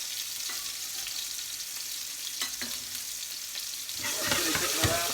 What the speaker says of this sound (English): Chilli cooking around.